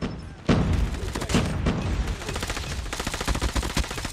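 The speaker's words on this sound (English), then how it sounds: "Testing this gun at range right now." Rapid gunfire from the OTs 9 submachine gun in COD Mobile, fired at a practice range: dense bursts of shots rattling continuously for several seconds, loud and close, with no talking.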